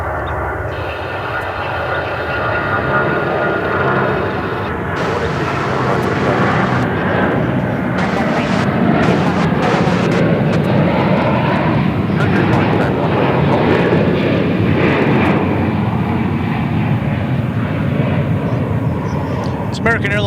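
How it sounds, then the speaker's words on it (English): An American Airlines Boeing 777 takes off at DFW bound for Shanghai, its engines a loud, sustained roar with shifting high whine and someone speaking over it. "And here's a 777, which is going out"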